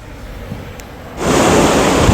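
Wind buffets a handheld phone microphone outdoors on a blustery day, a soft rumbling hiss that suddenly surges into loud, roaring gusts of wind noise.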